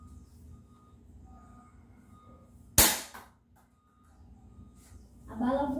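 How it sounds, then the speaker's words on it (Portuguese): A single sharp gunshot fired at a target cracks loudly once and fades quickly, with quiet background noise before and a brief burst of other sound near the end. "Segundo tiro, viu?"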